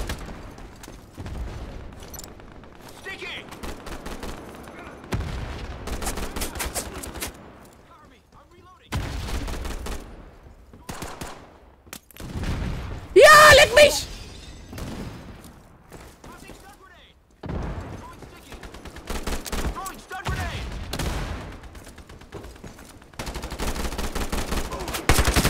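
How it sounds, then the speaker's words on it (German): An MP5 submachine gun fires in a video game in several separate rapid bursts with quiet gaps between them, one burst especially loud, while someone talks between the volleys. "Ich nehme jetzt wieder hier die MP5."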